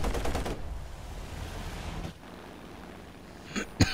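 A rapid burst of aircraft cannon fire in the game War Thunder opens the clip, then fades into a steady rushing drone with a couple of sharp clicks near the end.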